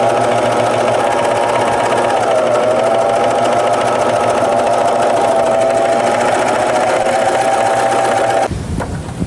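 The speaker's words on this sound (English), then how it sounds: "Just lower your foot and you can go." A serger stitches a blind hem with a loud, steady, close mechanical hum and rapid rattle that runs unbroken for several seconds before stopping abruptly near the end.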